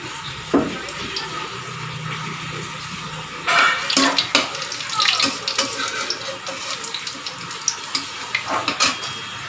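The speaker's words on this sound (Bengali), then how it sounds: "তো তেলটা গরম হয়ে গেছে, এর মধ্যে দেবো এই যে জিরে, তেজপাতা আর দুটো শুকনো লঙ্কা।" Cumin, bay leaves and two dried chillies dropped into hot oil, bursting into a loud, crackling sizzle that pops and spits unevenly, up close.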